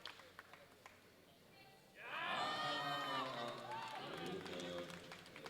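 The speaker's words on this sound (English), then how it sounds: "Plenty of supporters in the crowd." Spectators cheer and shout at the Women's Open 84+ kg World Classic Powerlifting Championships 2019, a loud surge of crowd noise that rises suddenly after a quiet start and holds steady, with some applause.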